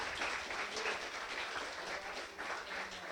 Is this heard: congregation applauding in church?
yes